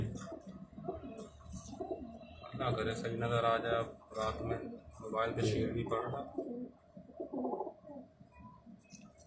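Kasuri pigeons coo in low, rolling murmurs beneath someone talking in Hindi-Urdu, the cooing rising and falling in short bursts between and under his speech.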